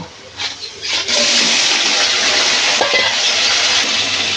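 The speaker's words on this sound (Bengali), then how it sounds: "আমি এই তেলে ক্যাকড়াগুলো একটু ভাজি করে নেব।" Crabs hit hot oil in a pan, and a loud, dense, steady frying sizzle takes over after about a second of quieter clatter, then continues without a break.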